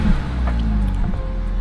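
Deep, loud rumble from a 2024+ Toyota Tacoma exhaust fitted with an SXTH Element off-road trail pipe, a steady low idle burble with no talking over it.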